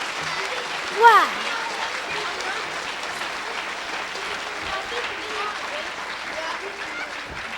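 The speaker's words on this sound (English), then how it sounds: "Give them a nice round of applause." An audience at a 1997 second-grade school musical applauds steadily and warmly, with a brief cheer or whistle near the start and sustained clapping throughout.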